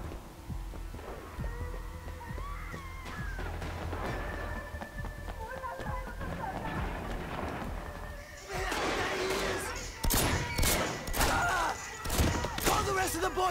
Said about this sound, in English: Machine gun for me.